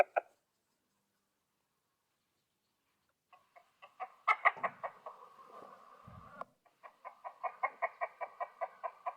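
Broiler chickens in cages let out a sharp squawk, fall silent, then build into a run of rhythmic clucks and rooster-like calls, close and clear against a quiet background.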